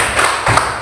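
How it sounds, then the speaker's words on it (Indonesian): Classroom clapping in a short, close burst: a few sharp hand slaps packed into under a second, loud and with no voices over them. "kita berikan tepuk tangan dulu"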